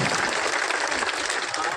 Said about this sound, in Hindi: आप जोरदार तालियां बजा के इनका स्वागत करो